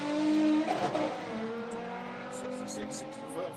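A supercharged, nitrous-fed VW VR6 drag car accelerates hard, its engine note rising loudly up front and then settling into a steady drone, with a voice talking over it.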